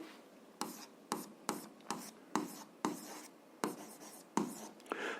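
Pen or pencil writing a math solution on paper: a close series of short scratchy strokes, around ten distinct scribbles in an uneven rhythm with brief quiet gaps, fairly soft.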